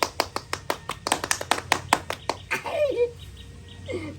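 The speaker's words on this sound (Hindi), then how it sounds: "ताली पंडित जी" Sharp, uneven hand claps ring out in a quick irregular series, close and distinct, then give way to laughter and lively talking in a comedic wedding scene.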